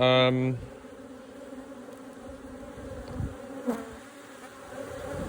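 Honey bees buzz steadily on a sparsely populated multi-queen micro nuc hive, a close, continuous low hum with a few louder passes of bees flying near, no talking.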